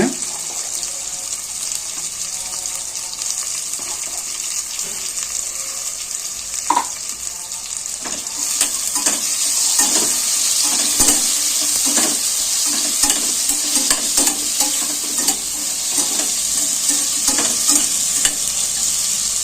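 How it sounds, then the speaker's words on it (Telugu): Soaked cashew nuts fry in a pan for a pulao with a continuous, fairly loud sizzle, while scrapes and taps of a stirring spoon come through repeatedly. "ఇది కూడా లైట్గా ఫ్రై అయ్యేదాకా అండి కొంచెం జీడిపప్పు ఇప్పుడే కదండి వేసాం అది కూడా ఫ్రై అవ్వాలి"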